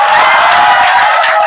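A crowd claps loudly with some cheering mixed in at a Lagos catfish farmers' association general meeting, a short, dense burst of applause.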